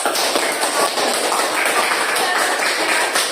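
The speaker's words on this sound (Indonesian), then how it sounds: "Oke, kita beri tepuk tangan" Dense, loud applause from a group in a classroom-style setting, a steady continuous wash of many hands clapping at once with no pauses.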